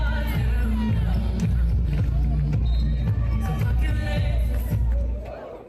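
A dense crowd at an Olympic beach volleyball match between the USA and Canada, on the Eiffel Tower center court, keeps up a constant roar of cheering and chatter, with voices mixed into the noisy babble throughout.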